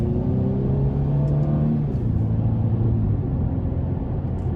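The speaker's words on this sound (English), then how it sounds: "I'm gonna nail it in eco mode coming out of this corner." A 2017 Mercedes-Benz C300 in eco mode accelerates hard out of a corner, its engine rising in a steady, loud rumble that climbs and then holds, heard from inside the car with no talking.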